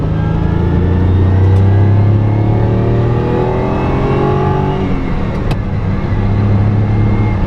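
A 1972 Ferrari 246 GT Dino engine on the move, loud and close, its note steadily rising and falling through the gears with a continuous rumbling drone and no voices.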